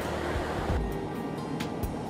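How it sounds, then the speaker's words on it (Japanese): Sea surf breaking along the shore at Tahama on Izu Oshima, a steady broad wash of waves with a swell midway, near and continuous, no voices. "目の前に広がるきらめきと波の音に癒しを感じて"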